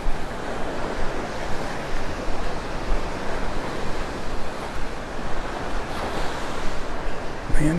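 Steady wash of surf and a light breeze at Vanderbilt Beach in North Naples, Florida, a continuous broadband roar of waves with some wind buffeting on the microphone, no talking.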